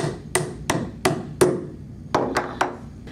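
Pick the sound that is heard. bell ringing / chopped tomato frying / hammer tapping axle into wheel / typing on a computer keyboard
hammer tapping axle into wheel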